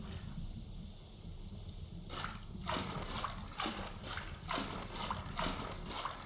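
Water pours from a bucket into a barrel in the survival game Vintage Story. A faint trickle runs first, then a run of repeated splashing gushes, quiet and alone.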